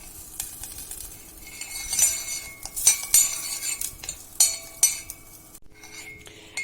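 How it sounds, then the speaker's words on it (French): Butter melts with a cinnamon stick in a pan for a sweet Moroccan tagine with prunes, heard as a faint sizzle under close, irregular clinks and taps of metal utensils against the pan and dishes. "Là, vous faites fondre le beurre avec le bâtonnet de cannelle."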